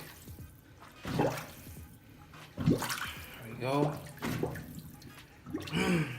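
Water rushing and gurgling down a freshly unclogged kitchen sink drain, surging in several bursts as someone talks over it.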